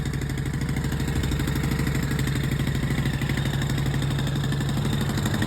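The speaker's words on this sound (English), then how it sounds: "I just wanted to warm the engine up slightly" A hybrid bicycle's small engine idles steadily after a brief warm-up, a close, continuous rattling putter with a fast even pulse and no voices over it.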